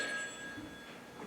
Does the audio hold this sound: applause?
no